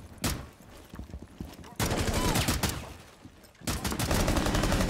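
Rainbow Six Siege gunfire: loud bursts of automatic fire with brief pauses between volleys, close and sustained, and a player's voice is heard amid the shooting.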